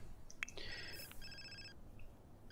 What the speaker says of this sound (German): Oh, ein Telefonanruf.